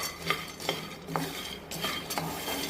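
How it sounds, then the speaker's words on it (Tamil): Roasted gram (pottukadalai) lightly sautéed in a pan, with several distinct scrapes and clinks of a spoon against the metal over a faint low sizzle, close up. "பொட்டுக்கடலை எடுத்துகிட்ட பிறகு இதை லைட்டாக வதக்கலாம்"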